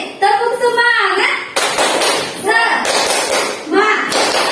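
Fourth-grade primary school pupils repeat the tepuk semangat spirit clap in class, a loud dense clatter of clapping in rhythmic bursts between chanted voices.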